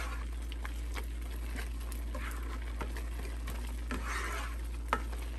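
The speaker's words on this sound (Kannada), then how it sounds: "ಸೊ ಒಲೆ ಮುಂದೆ ಸ್ವಲ್ಪ ಸ್ಪ್ಯಾಚುಲ ಅಲ್ಲಿ ತಿರುಗಿಸ್ಕೊಡ್ತಾ ಇರಬೇಕು" A spatula stirs beetroot burfi mixture in a pan on the stove, giving a steady, continuous scraping and soft sizzle with a few faint clinks, close and even throughout with no voices.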